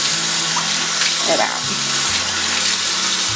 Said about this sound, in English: lukewarm water, and as I'm running it through, I'm just squeezing out all the excess and I'm rinsing